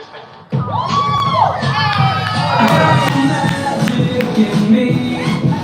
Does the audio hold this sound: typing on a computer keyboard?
no